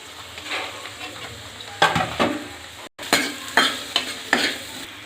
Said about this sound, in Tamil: நம்ம நறுக்கி வச்சுருக்க வெங்காயம் அப்புறம் இந்த பச்சை மிளகாய் இது எல்லாத்தையும் சேர்த்துடலாம் வெங்காயம் நல்லா வதங்கட்டும்